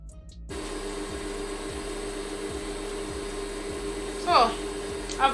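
Sewing machine stitching corset pieces together, a steady mechanical hum with a regular needle pulse that starts after a brief silence, with a couple of louder knocks near the end.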